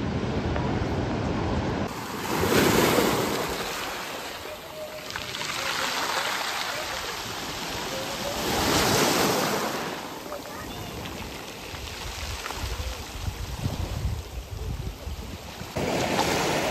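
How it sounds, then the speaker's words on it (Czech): Big sea waves roll onto a beach in slow surges that build and fade, a broad steady roar mixed with wind rumbling over the microphone, and no clear voices. "Teď jako jo, jsou tam nějaký velký vlny, ale že by byly 5metrový."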